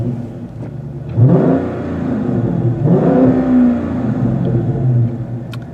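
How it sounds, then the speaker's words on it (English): A Dodge Charger ScatPack's Hemi V8 fires up close by with a sharp rising bark, then revs twice more in swelling pulls that settle into a deep, rumbling idle. "I really love the sound of this car when I start it up."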